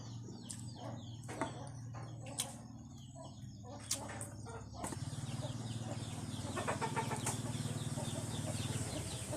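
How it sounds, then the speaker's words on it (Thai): A chicken clucks in a rural outdoor setting, giving a few sharp separate clucks over a low steady hum before a denser stretch of clucking and outdoor noise, with faint speech in the background. "ไก่"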